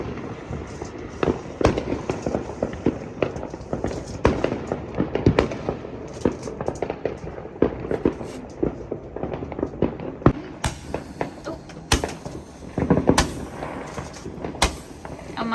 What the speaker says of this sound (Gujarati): એક બાજુથી ઠંડી ને એક બાજુથી ફટાકડા ફૂટે છે.